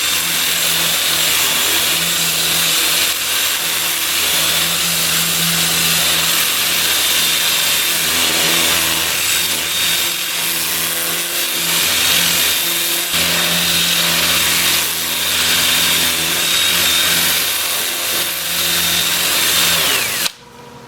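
A 2-inch sanding disc on a sycamore bowl turning on a lathe run in reverse gives a loud, continuous whirring grind that stays steady throughout and cuts off sharply at the end.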